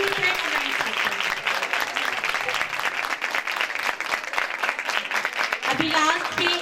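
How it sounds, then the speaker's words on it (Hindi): Audience at a Christmas church program breaks into sustained, dense clapping for a teacher, filling the space evenly and tapering slightly near the end. "तो आप ताली बजेगी टीचर के लिए।"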